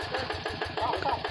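Yanmar hand tractor engine running while the machine is pushed up a rice field embankment, a steady close chugging with rapid regular pulses throughout a brief moment.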